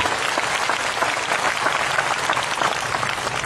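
Steady, dense applause from a church revival congregation in Sibolga, Indonesia, sustained at an even level throughout with no voices standing out.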